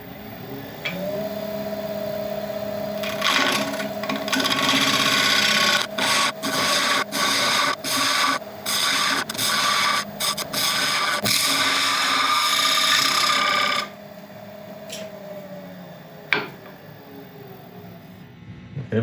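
A wood lathe facing off a resin and soapstone blank: a sustained whirring hum with a rough scraping tool cut broken by a rapid series of brief interruptions, close and loud, then the motor winding down to quiet.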